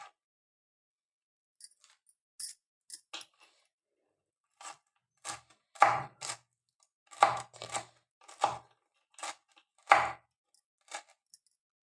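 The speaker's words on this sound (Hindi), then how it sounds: "और इसी में काट लेंगे हरा धनिया।" Green coriander and vegetables chopped on a board, giving a sparse run of separate crisp knife strikes, some single and some in quick clusters, close by with brief silences in between and no talking.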